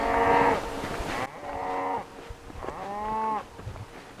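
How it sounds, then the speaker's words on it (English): A herd of cows on a hiking trail in Colorado's San Juan mountains gives three drawn-out moos one after another, each lasting under a second, close and clear against quiet outdoor background. "a band of cows."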